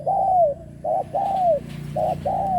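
A trained spotted dove coos in a series of soft, hooting notes, five short calls in an uneven rhythm, clear and fairly close.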